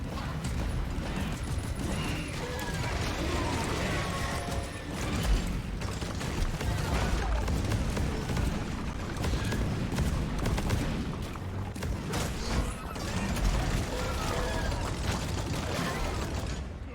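Big Bertha gun in the video game Deep Rock Galactic, heard as dense, continuous clattering bursts of fire mixed with mechanical reload clanks, loud and steady throughout with a chaotic battle wash behind it.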